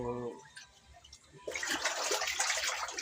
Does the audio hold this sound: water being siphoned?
yes